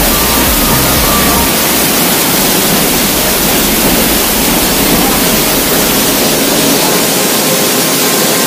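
Water crashing down at the Coban Jahe waterfall in Malang, a loud, steady, close roar of splashing spray that fills the whole stretch without letup.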